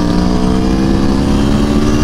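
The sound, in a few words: sport bike motorcycle blowing by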